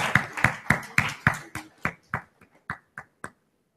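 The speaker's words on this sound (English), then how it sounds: "Let's give him a round of applause." A small audience at a leadership panel event gives a short round of applause, a dozen or so distinct close claps that start fairly strong and then thin out and fade.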